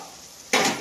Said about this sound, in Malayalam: അപ്പോൾ തിളച്ച് വരുന്ന വെള്ളത്തിലേക്ക് ഇതാ സേമിയ ഇട്ടിരിക്കുകയാണ്